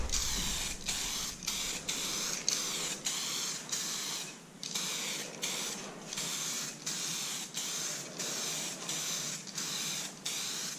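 A spray gun hisses in repeated passes while misting paint back and forth over a composite lower vent duct for a C7 Corvette Stingray, each steady burst broken by brief gaps, close and loud, with no speech.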